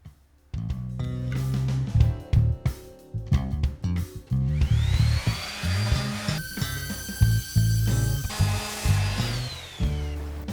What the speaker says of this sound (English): I'm just going to give it a good sand down